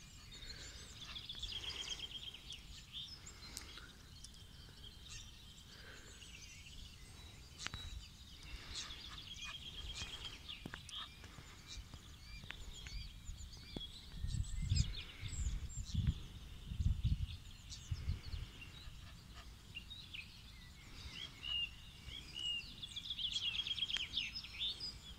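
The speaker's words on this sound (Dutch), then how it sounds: "Roepbeesten zijn het." Call ducks calling outdoors near a pond where a heron hunts ducklings, with bright chattering bird calls spread across the scene, some louder bursts of low activity around the middle, and steady outdoor background noise throughout.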